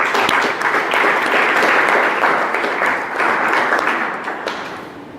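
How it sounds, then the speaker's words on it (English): A school audience breaks into loud, sustained applause, dense clapping that holds steady for several seconds before beginning to thin out near the end. "Let's welcome him with a big round of applause"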